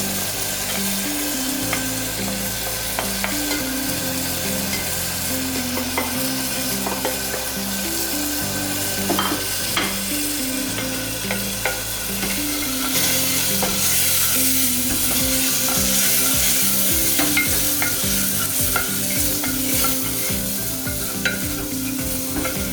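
Onion sautéing in hot oil in a pan with ginger, green chilies, jeera and red chilli powder, with a steady crackling sizzle and repeated scraping stir strokes throughout, close and fairly loud, no voices.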